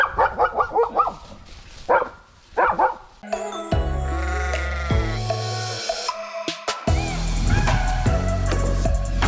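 A sheepdog barks several times in quick bursts up close, then music with bleating-like sounds takes over.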